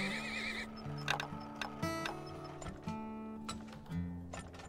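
Horses neigh and whinny in the video game Turmoil, several loud calls in a row over game music, with the clip-clop of hooves underneath.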